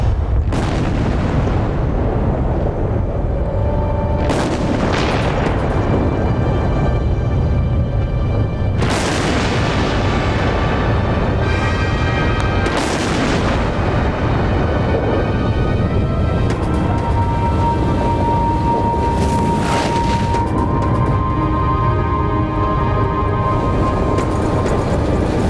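A test detonation explosion rumbles loudly and continuously, with repeated heavy booms and crackling bursts layered over a deep sustained roar.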